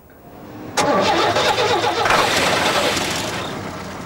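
An old Chevy engine cranks briefly, then catches abruptly and settles into a steady, loud idle that slowly fades.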